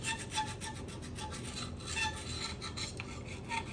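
A metal adapter plate for a steering column is trimmed, with a continuous close rasping and grinding texture broken by faint regular pulses, and no talking.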